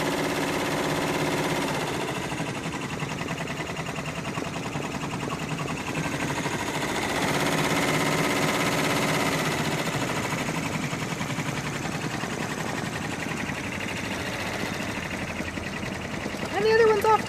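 An embroidery machine stitches a tiled scene design with a steady, rapid mechanical chatter. The needle runs continuously at an even pace under a person talking throughout.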